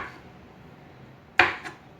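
Two quick knife chops on a cutting board as artichokes are diced small for salad, a sharp crisp strike followed by a softer one, close by in a quiet room.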